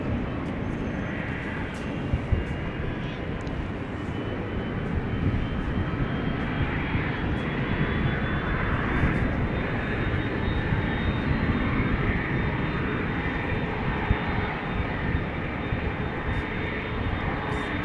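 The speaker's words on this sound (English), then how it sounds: "we can already hear the A330's engines. They're overpowering everything" An Airbus A330's jet engines roar continuously and loudly nearby at Amsterdam Schiphol Airport, a broad steady rumble with a thin high whine running through it.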